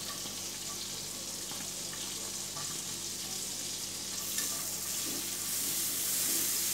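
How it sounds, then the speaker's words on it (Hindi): Chopped onions frying in a pan with ginger, garlic and green chilli, a continuous dense hiss of sizzling oil, close and steady throughout, brightening slightly near the end, with no talking. "तो सबसे पहले हम इसमें प्याज डाल देंगे।"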